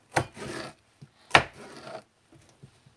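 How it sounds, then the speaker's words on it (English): A knife cuts a tomato on a wooden board for butter chicken. Two firm chops each crunch into a short rasp as the blade slides through, followed by faint taps, with no talking. "you're gonna cut your tomato"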